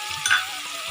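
Garlic paste hitting hot oil in a pan, a loud close hiss of frying that holds steadily for about a second with a brief flare near the start.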